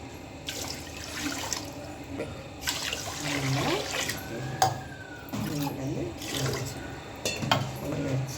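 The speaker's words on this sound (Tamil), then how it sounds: "ஒரு பங்குக்கு ரெண்டு பங்கு தண்ணி ஊற்றுவோம் ஆனால் இதுக்கு நம்ம மூணு பங்கு தண்ணி ஊற்ற போகிறோம்" Water runs and splashes in bursts, like pouring from a tap into a pot for cooking ragi porridge, with faint voices and clinking in between.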